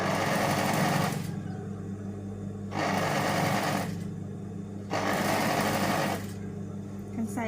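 A sewing machine stitches trouser legs in loud, steady runs, pausing briefly between bursts of rapid mechanical chatter and starting up again.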